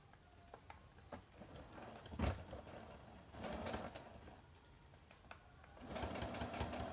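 A sewing machine stitching a cloth face mask, running in short, quiet bursts of rapid needle clatter with brief pauses and small clicks between them.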